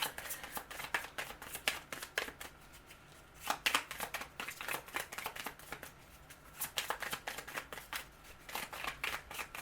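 Tarot cards being shuffled and drawn make rapid riffling flicks and soft papery slaps in quick, uneven bursts, close and fairly quiet.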